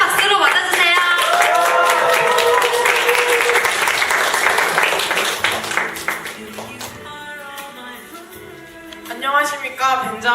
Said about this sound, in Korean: 모두 큰 박수로 맞아주세요.